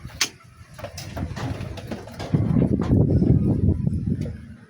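Racing pigeons cooing at a training loft in San Miguel, Bulacan, with low, soft murmuring coos under a steady rumble of nearby movement and handling; no one speaks.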